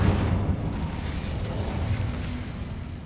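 Casting the Incendio fire spell in Hogwarts Legacy sets off a deep, rumbling whoosh of flame that starts loud and fades gradually, with no voices over it.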